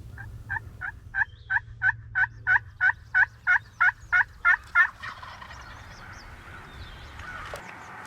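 A wild turkey gobbles in a rapid series of about fifteen evenly spaced calls, clear and fairly close over a quiet field, followed by faint distant calling and soft rustle.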